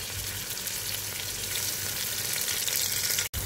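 Ginger, green chilli and curry leaves fry in hot coconut oil with a loud, steady, close-up sizzle that continues without a break until a brief cut near the end.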